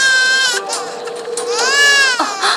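An infant cries loudly and continuously up close, with wavering, rising and falling wails and brief catches of breath in an animated cartoon scene.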